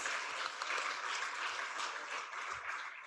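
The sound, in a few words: applause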